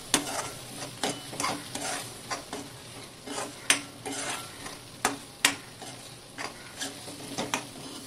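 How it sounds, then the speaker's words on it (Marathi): Masala being sautéed in oil for a rawas fish curry, with a steady low sizzle broken by repeated clinks and scrapes of a spoon stirring against the pan, close by and with no talking. "तेल सुटेपर्यंत हा मसाला परतवून घ्यायचा।"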